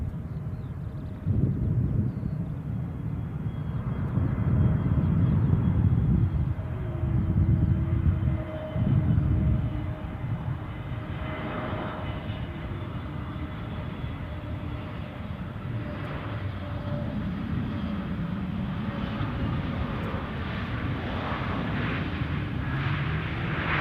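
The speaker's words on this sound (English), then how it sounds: "Let's get this EasyJet's arrival from Dubrovnik in" An EasyJet airliner arriving at Edinburgh Airport from Dubrovnik, a steady broadband engine roar that stays loud for the whole stretch, with a faint whine running above it and a slightly heavier rumble near the start.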